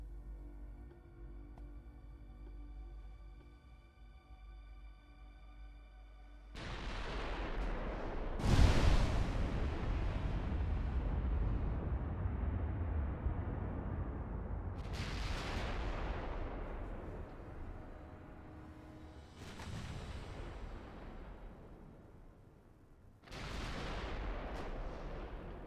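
Naval gunfire in the warship game Ultimate Admiral Dreadnoughts, including a 20-inch gun: four heavy booming shots, each decaying into a long rumble, spread over roughly twenty seconds and loud against a quiet hum.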